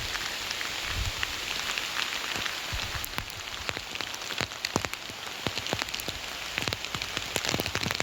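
Steady rain falls continuously, with scattered sharp drips and drops tapping on a surface throughout; no voices.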